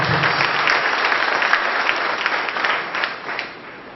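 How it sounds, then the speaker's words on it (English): After a constitutional debate at a Kerala High Court lawyers' debate club, an audience gives steady, full applause that holds for several seconds before beginning to taper. "Why not give them a big round of applause?"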